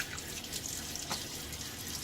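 Close, steady tap water runs into a sink during a face wash, with a few light splashes and drips over the continuous flow and no voices.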